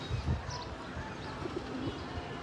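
Soft, low pigeon cooing over a busy, noisy background of outdoor sound.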